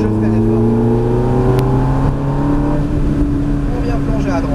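Ferrari F430 F1 on the Mérignac race circuit under hard braking, its loud engine note holding steady tones that shift and drop as the car slows, close and continuous.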